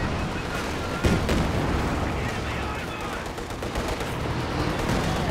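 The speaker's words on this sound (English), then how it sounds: "After the machine gun." Machine gun fire and battlefield gunfire from a Company of Heroes 2 multiplayer match, a dense, continuous stream of shots with a sharper burst near the start, mixed under game noise and a voice.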